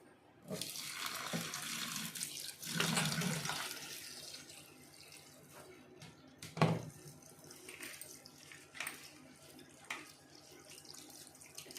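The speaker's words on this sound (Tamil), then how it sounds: "நம்ம நல்லா அலசி எடுத்து வச்சுக்கலாம்" Greens for a keerai kuzhambu are rinsed under a running kitchen tap, with a steady, fairly faint gush of water broken by splashes and handling noises.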